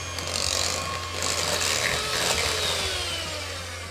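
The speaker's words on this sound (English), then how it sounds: "And just mix that together again with your beaters." Electric hand beaters whirring steadily through a cheesecake cream mixture with double cream in a bowl, a continuous loud motor drone with slight changes in pitch as the beaters move, close up and without speech.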